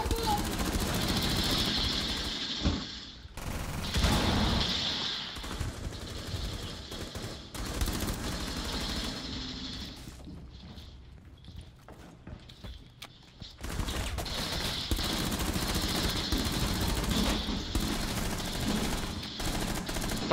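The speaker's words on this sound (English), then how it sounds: "I'm shooting directly over your head" Rapid automatic gunfire in a team shooter video game, with loud sustained bursts broken by short pauses and quieter stretches, while players talk over the shooting.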